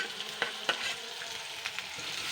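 Chopped onion sizzles softly in a pan while it is stirred, with a continuous frying hiss and occasional scraping clicks from the spoon. The sound is close and fairly quiet, with no talk.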